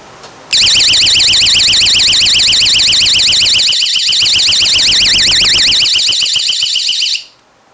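A small battery-powered plastic alarm box, running on three watch batteries, blares a piercing, rapidly warbling electronic tone for about seven seconds before cutting off, very loud and close.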